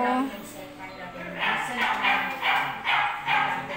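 Several yips and barks from a dog come in a quick rhythmic series, fairly close, with people talking around them.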